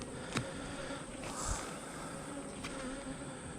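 A honey bee swarm hums in a hive under a plexiglass cover, a soft continuous buzz of many bees with a few brief louder passes of single bees near the microphone.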